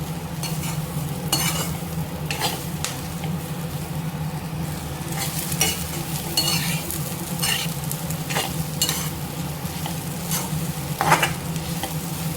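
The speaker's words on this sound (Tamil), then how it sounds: "இது சிம்மிலே வச்சு இப்படி கிளறி விட்டு" Okra being stirred in a pan on low heat, repeated scraping spatula strokes over a low steady sizzle, close and rhythmic.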